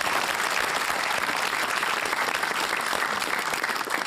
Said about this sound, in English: may have had your round of applause.